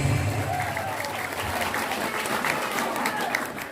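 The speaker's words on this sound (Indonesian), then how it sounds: "Tepuk tangan untuk Indonesia." Audience applause at an Islamic sermon gathering in Cimande, Bogor, a continuous crowd clapping held at moderate level, with faint voices mixed in.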